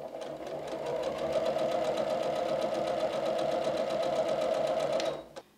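Sewing machine stitching pieced quilt fabric: one steady, close run of rapid, even needle chatter lasting several seconds, then a sudden stop.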